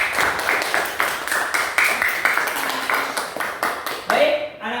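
A classroom of schoolchildren claps for a student group, a quick burst of patchy, uneven hand claps that thins out and fades after about four seconds, with a teacher's voice speaking over the start.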